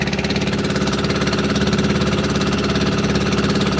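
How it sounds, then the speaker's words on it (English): Loud, steady diesel engines run close by with a dense, rumbling drone and a fast, even pulsing throb that never lets up, no talk over them. "It's really noisy over these diesel engines."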